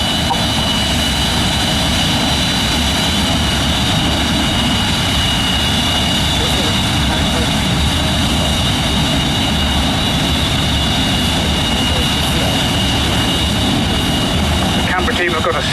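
Rolls-Royce Avon jet engines of a Canberra aircraft roar loud and continuous, a dense sustained rumble with a high whine running on top, steady throughout.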